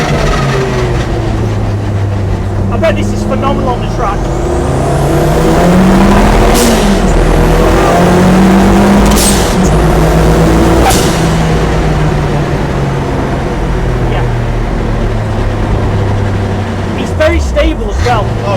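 A 550 hp rear-engined Peugeot 205 idles loudly up close with a deep, lumpy note, rising into a few revs midway before easing back; voices talk over the engine.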